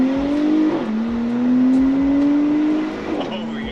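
A 2024 Porsche Cayenne Coupe accelerates hard from a roll, its engine note climbing steadily through the gears with brief shift dips, heard loud from inside the cabin.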